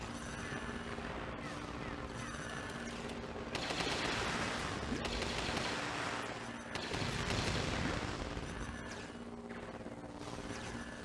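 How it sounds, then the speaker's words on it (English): Gunfire in the Lego Star Wars video game: dense, loud, continuous volleys of blaster shots over steady game sound, surging louder in two stretches, with no talking. "The gunshots are really loud"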